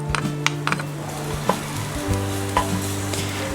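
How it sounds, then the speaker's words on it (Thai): Garlic sizzling and frying in hot oil in a Teflon pan over medium heat, a steady bright crackle with a few sharp clinks of a utensil against the pan. "พอน้ำมันเราร้อนก็คือใส่กระเทียมลงไปนะครับ"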